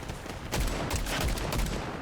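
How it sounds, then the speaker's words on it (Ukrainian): Rapid bursts of Fortnite video game gunfire crackle in a dense, continuous volley, with repeated sharp low thumps, loud and close. "Що там, що там, стрілянина,"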